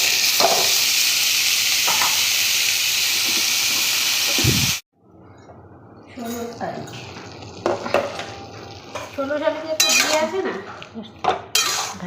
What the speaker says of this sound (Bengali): তো এখন পনিরটাকে একটু ভেজে নেবো হালকা করে